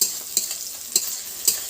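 Meat curry with spices frying in a pan, stirred with a utensil in three or four distinct scraping strokes over a steady soft sizzle, close and fairly quiet, with no talk.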